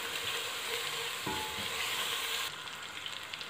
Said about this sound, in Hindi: अब लहसुन अदरक को मैं 2 से 3 मिनट भूनूंगी।